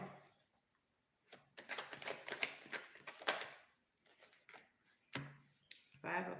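A deck of tarot cards is shuffled by hand, giving quiet bursts of riffling and rapid card flicks spread across several seconds, faint and close, with brief pauses between.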